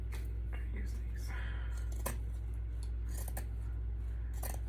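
Scissors snip through a cloth rag in a kitchen, with several short crisp cuts spaced irregularly over a steady low background hum.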